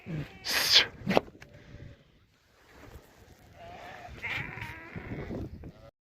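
Hungry lambs bleat several times, loud and close, with short sharp calls early, then quieter background noise and movement, on a cold day after a snowstorm.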